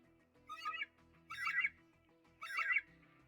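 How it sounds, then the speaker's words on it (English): Eagle call: three short, shrill, squawking cries in quick succession, fairly faint and clear over near-silence. "That was an eagle."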